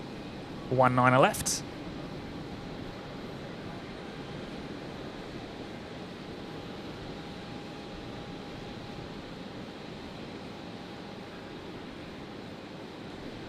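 An aircraft taking off from runway 19 left at Brisbane Airport at night, heard as a steady distant broadband engine roar after a short burst of radio voice at the start.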